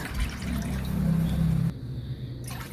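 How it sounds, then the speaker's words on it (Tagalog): Three glasses of water pour steadily into a metal pan for a couple of seconds, then stop abruptly, leaving faint dripping and room noise. "maglagay lang ako dito ng tatlong basong tubig"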